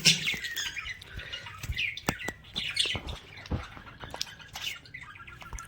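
Caged breeding pairs of lovebirds and cockatiels squawk and chirp in a dense, overlapping chorus, with sharp calls repeating irregularly and close by, with no voices.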